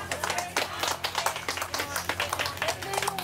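Scattered clapping from a small group at a live fantasy roleplaying performance, a loose patter of claps running under someone speaking.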